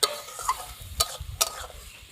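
Spice masala with chili powder and a splash of water stirred and fried in oil, a soft sizzle punctuated by several quick spoon scrapes against the pan.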